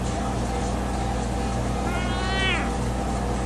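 A Birman cat perched on a refrigerator gives one short rising meow midway through, heard over a constant low household hum.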